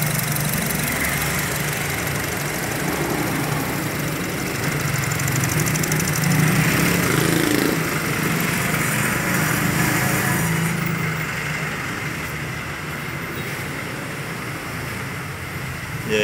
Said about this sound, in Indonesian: Mesinnya makin halus.